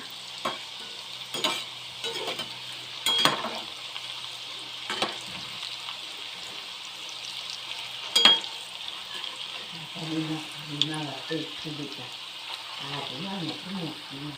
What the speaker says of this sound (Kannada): ಫ್ರೈ ಆಗಲಿ. ಫ್ರೈ ಆದಮೇಲೆ ತಿರ್ಸ್ಕೊಳ್ಳೋಣ.